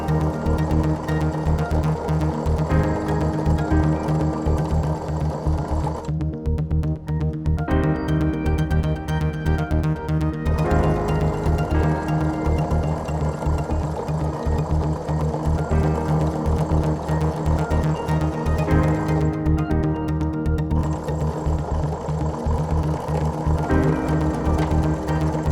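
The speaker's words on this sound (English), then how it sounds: "I will go ahead and sew on the lines I've marked" A sewing machine stitches half-square triangle quilt pieces in a steady, loud, continuous drone with a few brief shifts in tone.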